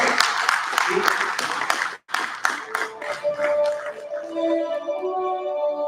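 A conference audience at a tech talent event applauds a magazine director, with dense clapping that briefly drops out and then resumes more thinly while a voice and a tonal hum rise beneath it.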